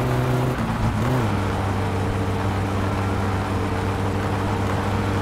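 Steady engine drone of a car driving in My Summer Car, holding a constant pitch after a brief shift near the start, loud and continuous with no talk.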